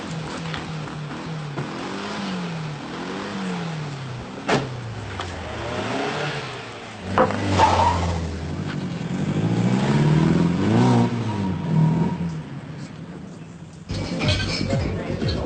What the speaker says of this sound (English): Just a gang of kids in a car.